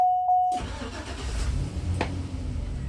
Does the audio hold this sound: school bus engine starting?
yes